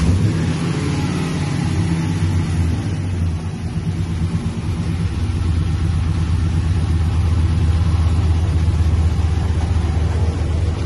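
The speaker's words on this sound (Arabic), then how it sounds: "راح نشغل السيارة الآن وناخذ فيها لفة" A customized 1964 Chevrolet Chevelle Malibu on air suspension running with a steady, loud mid-pitched engine rumble that holds unbroken throughout, close by and alone without talk.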